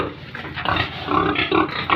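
A pig grunts and snuffles repeatedly at close range, low rough grunts coming in short uneven bursts over a farm pen backdrop.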